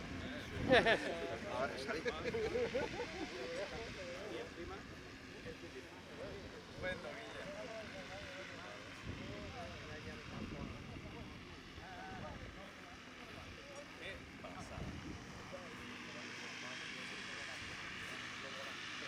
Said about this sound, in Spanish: Dice que bien vuela ese helicóptero.